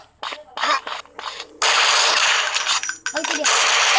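Gunfire in the mobile shooter Counter Terrorist 2: a voice talks in short bursts at first, then loud, dense, continuous shooting takes over with a brief break and metallic clinks near the end.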